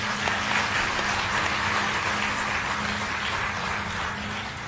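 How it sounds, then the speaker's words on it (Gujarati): An audience claps for a boy, giving steady, dense applause that carries on evenly for several seconds and thins a little toward the end. "આ છોકરાને એકવાર તાળીઓથી વધાવો બધાને"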